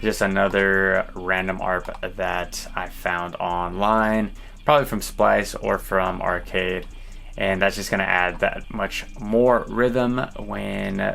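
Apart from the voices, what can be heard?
No everyday noise stands out behind the speech.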